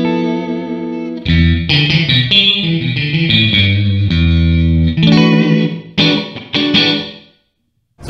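Electric guitar played through an Audient Sono interface on a clean preset, with the microphone pulled back from the cab so room reverb opens up; chords and melodic notes ring out loud and steady, with a short gap near the end.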